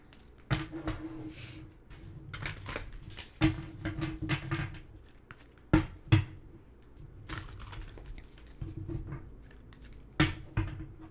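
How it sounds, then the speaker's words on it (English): A deck of Spirit Junkie oracle cards being shuffled by hand, giving soft papery riffles and taps in irregular bursts with sharper clicks between them, close by and with no talk. "let me shuffle these Spirit Junkie cards"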